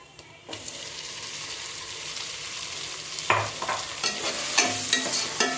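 Onion, coriander and mint sauté in hot oil for mushroom biryani, giving a steady close sizzle with a burst of scraping stir strokes in the second half; no one speaks.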